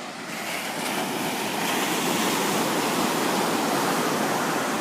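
Ocean surf breaks on a Maui beach in a steady, dense wash of white noise that swells slightly and then holds loud and close throughout, with no voices.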